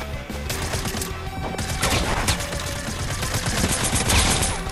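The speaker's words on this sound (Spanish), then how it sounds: "estoy escuchando tiros" Rapid gunfire from Fortnite, a dense run of automatic shots and crackling bursts over game music and effects, steady and loud throughout with no talk.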